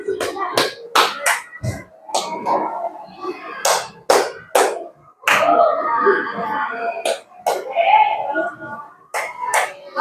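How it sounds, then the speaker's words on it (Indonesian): A small group claps out a repeating one-two-three pattern in a classroom coding lesson, with sharp hand claps in clusters and voices speaking between and over them. "Orang pertama tepuk 1, orang kedua tepuknya 2, orang ketiga tepuk 3, yang keempat kembali lagi ke tepuk 1."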